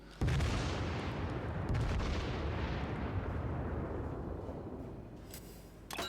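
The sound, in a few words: battleship guns firing in video game World of Warships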